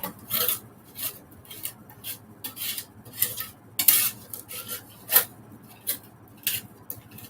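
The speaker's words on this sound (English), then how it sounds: "just take the edge of your knife and you scrape it and squish it" A knife edge scrapes and mashes garlic with salt into a paste on a cutting board, a series of short rasping strokes in an irregular rhythm, close and fairly quiet with no talking.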